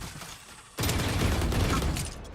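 A sudden burst of sustained gunfire in a tactical shooter match between professional teams, loud and dense, cutting in after a quiet moment and continuing steadily with no voices.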